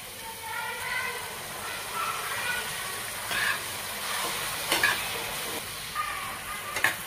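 Chopped tomatoes and capsicum frying on a tawa for paneer masala, a steady soft sizzle with occasional stirring clinks and louder crackles, heard close and moderately quiet.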